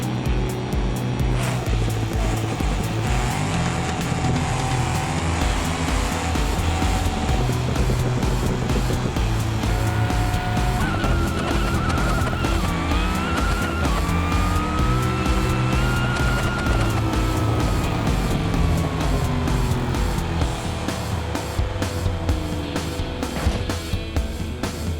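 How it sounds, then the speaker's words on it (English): A supercharged Bruckell Moonhawk with a 500-cubic-inch engine in a BeamNG side-by-side race roars continuously, its pitch climbing and sweeping through gear changes and revving under a steady, loud drone. "here comes the supercharged version of the Bruckell Moonhawk"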